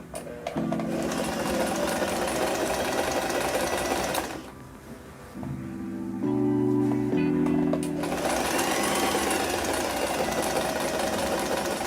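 A sewing machine stitches the seam of a simple lined baby blanket, running in steady bursts with a pause and a shift in pitch midway.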